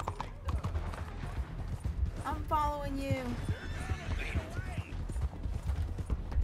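A horse in a Red Dead video game clip-clops along at a steady trot, the hoofbeats running continuously under voices talking throughout, with a brief whinny partway through.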